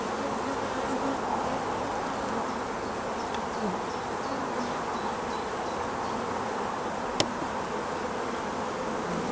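Honey bees at a hive during queen rearing give a steady, dense buzzing drone, close and continuous, with one sharp click partway through and no talking.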